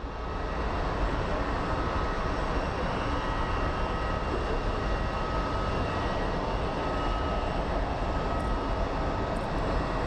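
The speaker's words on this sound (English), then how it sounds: "we have a 737 coming in from Tampa" A Boeing 737 airliner arriving from Tampa at Phoenix Sky Harbor, its engines a steady broad roar with a faint whine, loud and unbroken, heard alone.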